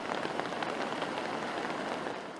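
Heavy rain pouring down steadily in Cagayan, Philippines, a dense, continuous hiss of drops hitting surfaces close by, with no voices.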